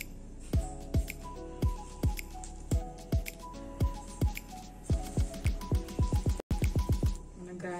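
Chopped spinach and onions for palak pakoda are mixed by hand with flour and no water, giving close, rhythmic squelching presses about twice a second that speed up toward the end.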